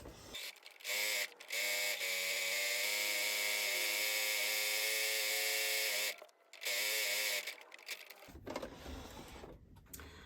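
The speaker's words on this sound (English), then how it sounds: "I'm going to stitch all the way around and finish by these here." A sewing machine stitches around a drawstring make-up bag, running close and loud with a steady high mechanical whir, pausing briefly twice before a final short burst and then stopping.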